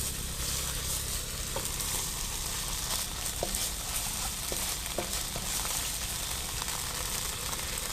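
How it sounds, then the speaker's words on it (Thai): Shallots and roasted coriander root stir-fry in a wok for a Thai khanom jeen nam prik, giving a steady, dense sizzle throughout with a few light scrapes and taps of a utensil. "หอมแดงกับ รากผักชีนะคะที่เรานำไปคั่วเราลงมาผัดด้วยกันเลยนะคะ"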